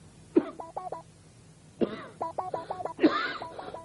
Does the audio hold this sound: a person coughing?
yes